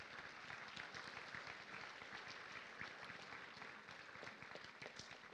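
Faint, distant applause from a seated audience at a university graduation presentation ceremony, a soft continuous wash of clapping that holds steady throughout.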